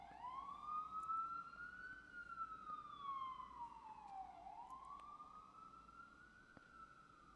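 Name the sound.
emergency vehicle sirens passing outside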